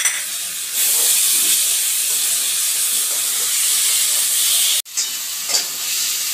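A ground spice paste fries in a hot pan for a jackfruit and prawn curry, giving a loud steady hiss and sizzle, close up, with a sharp brief break partway through before the frying noise resumes.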